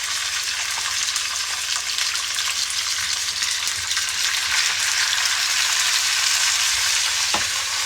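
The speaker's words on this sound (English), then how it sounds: "Now we're going to add our tuna steaks." Ahi tuna steaks sear in a hot pan, giving a steady, loud, close sizzle and crackle of frying that runs unbroken the whole time with no talking.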